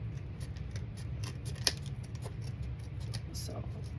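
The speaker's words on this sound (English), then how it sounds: "I have to cut this just a wee bit right here. My snips did not get as close as I would have hoped or needed." Small snips cutting ribbon for a bow, a few faint crisp clicks, one sharper snip standing out over a low room hum.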